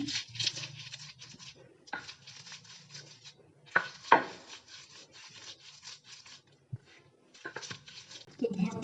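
Dried fish is ground together with onion, chili and garlic, giving rough scraping and rubbing strokes in uneven bursts, with a few sharper knocks and pauses between them.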